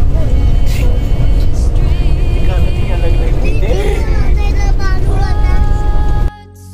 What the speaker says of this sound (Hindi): तो गाड़ी आ गई है, अब गाड़ी में बैठेंगे और फिर जाएंगे